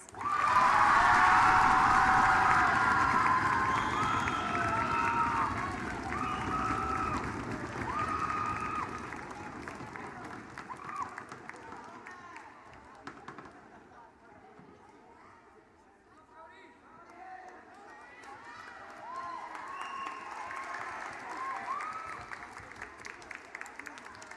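Loud applause and cheering from the crowd at an eighth-grade awards ceremony, heaviest at the start, then thinning into scattered clapping and murmuring chatter before building again toward the end.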